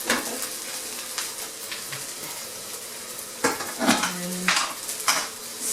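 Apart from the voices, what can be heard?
stirring fried rice in a pan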